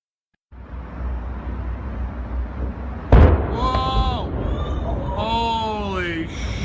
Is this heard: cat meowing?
no